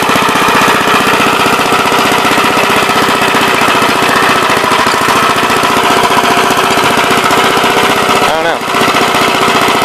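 Grave digger machine running at normal speed, a loud, steady, rapid mechanical hammering drone that continues unbroken at close range, with a brief dip near the end.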